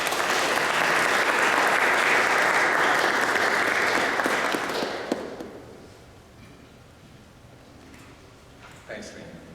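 A symposium audience applauds loudly and steadily for several seconds to welcome a speaker, then the clapping dies away into a quiet room with a few scattered claps and small noises.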